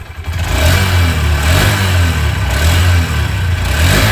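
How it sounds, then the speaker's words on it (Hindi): Close-up engine of a 2023 Honda SP125 OBD-2 BS6 motorcycle settles into a steady, loud low hum after a brief rise, then holds an even idle with slight throttle swells and no speech over it. "ये है इंजन साउंड,"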